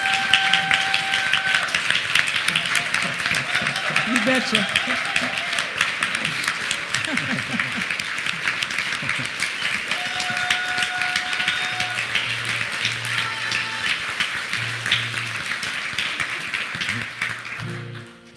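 An audience at a gathering applauds in a dense, continuous patter of clapping that holds steady throughout, with a brief spoken remark near the end.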